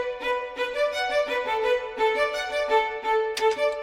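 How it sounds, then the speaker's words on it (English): A solo violin layered with a Native Instruments Stradivari violin sample plays a bright, expressive phrase of bowed notes with rhythmic accents, close and clear with no speech. "I ended up layering it with the Stradivari violin"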